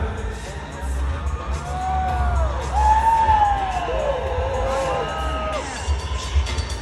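An arena crowd at a PBR bull riding event in London, Ontario cheers and whoops for a bull rider, a loud sustained roar with shrill whistles rising over it.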